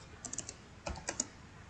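Typing on a computer keyboard while entering text into an Excel sheet: a few quick, light key clicks in two short bursts, close and alone in a quiet room.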